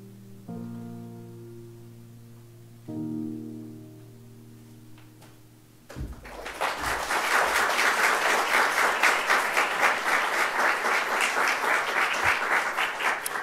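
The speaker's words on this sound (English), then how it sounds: "Is that applause for me or the video?" A large audience at an evening TransLink talk bursts into loud, sustained applause, dense clapping building quickly and holding steady after a few seconds of quieter room tone with sustained tones.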